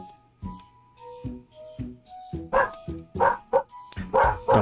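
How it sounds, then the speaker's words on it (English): A dog barks repeatedly in a steady series of sharp woofs, growing louder and more insistent toward the end, with no talking. "Dog noises."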